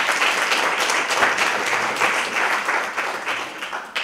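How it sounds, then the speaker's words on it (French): Warm, sustained audience applause at a literary reading and discussion event, with dense, even clapping from a seated crowd that continues for several seconds. "vous pouvez applaudir"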